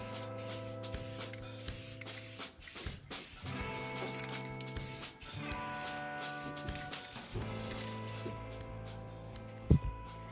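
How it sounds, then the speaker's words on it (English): Spray paint hisses from an aerosol can onto a car wheel at a car meet, in several sustained bursts broken by brief pauses, fairly quiet under a steady background hum, with a short click near the end. "I'm gonna spray over that"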